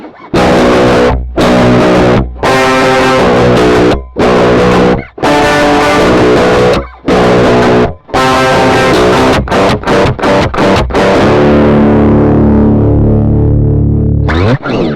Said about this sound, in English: it's not the best distortion I've ever heard